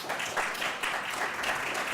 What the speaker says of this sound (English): if we could give all the participants from today just a big round of applause